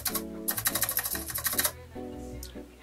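Rattling stabilized key on a 3D-printed mechanical keyboard fitted with Costar stabilizers, pressed repeatedly in quick bursts of clacky, rattly keystrokes, close and fairly loud, with a pause before a second run of presses.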